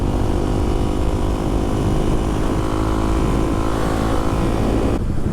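A brand-new 2024 Kawasaki KLX300SM supermoto motorcycle while being ridden, its engine droning steadily and loud up close with a continuous low rumble and road noise, then cutting off abruptly near the end.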